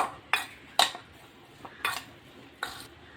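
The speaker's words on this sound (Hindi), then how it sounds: "उसमें हम थोड़ा सा हरा धनिया डालेंगे और इसे अच्छे से मिक्स कर लेंगे।" A spoon mixes potato samosa filling with fresh green coriander in a bowl. It makes five sharp, separate clinks and scrapes against the dish, spaced unevenly over a few seconds, with no voices.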